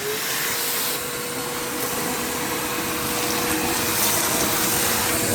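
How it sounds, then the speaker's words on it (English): A vacuum cleaner runs continuously close by, a loud steady whooshing roar with a faint whine, no voices. "And a vacuum cleaner right there."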